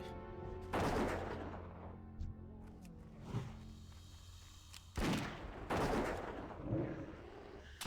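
Gunfire from a World of Warcraft hardcore session with a level 51 Hunter, heard as two loud bursts of shots about four seconds apart, with sharper single cracks in between over a steady game background.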